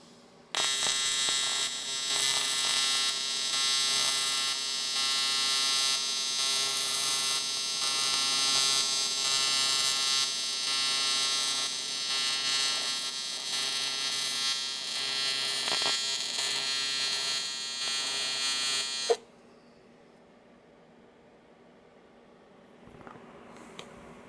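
Welder tacking a custom hub adapter onto a C5/C6 Corvette Woodward steering column, a loud continuous electric buzz and hum lasting nearly twenty seconds before cutting off sharply into quiet.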